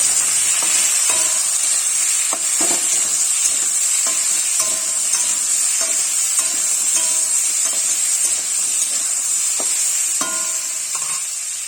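Food frying in a pan with turmeric and salt sizzles steadily while a utensil scrapes and knocks against the pan in irregular stirring strokes, close and continuous, with no talking.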